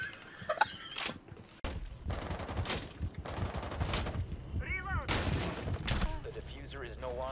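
Gunfire through walls in Rainbow Six Siege: a string of sharp shots spread across the stretch, some close and loud, mixed with footsteps and other game sounds, with a voice talking at the start.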